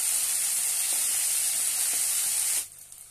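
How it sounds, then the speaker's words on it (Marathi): Finely chopped tomato sautéing in a pan for a village-style Marathi brinjal curry, a loud continuous close-up sizzle with a few faint stirring taps that cuts off abruptly near the end. "एक टोमॅटो बारीक कट केलेला आहे तो घालूया। छानपैकी परतून घेऊया।"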